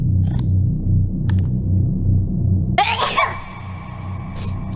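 One sudden, loud sneeze bursts out over a low rhythmic hum from an animated fan cartoon, then a thin ringing tone lingers afterward.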